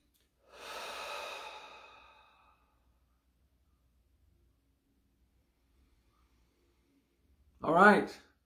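Deep breathing close to the microphone: one long drawn exhale lasting over a second, then near silence, then a short sharp inhale or sniff at the end.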